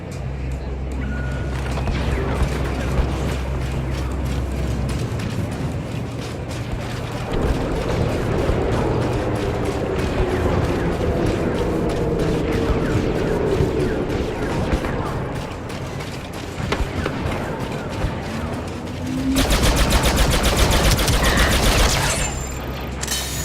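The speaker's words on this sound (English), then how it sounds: "Multi-troop transport preparing to fire at the palace." A multi-troop transport walker fires during a battle in Battlefront II, with dense rattling mechanical clatter and a continuous barrage of blasts, loud and unbroken, with a deep rumble that swells near the end.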